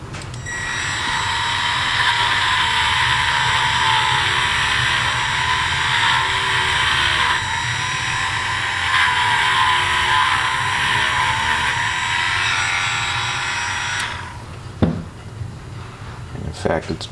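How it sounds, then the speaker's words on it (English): A Dremel rotary tool whines loudly and steadily at close range for about fourteen seconds while cutting into a car dashboard switch. It then cuts off, leaving a few light clicks and taps. "if you're going to take apart a switch, a Dremel is an awesome tool"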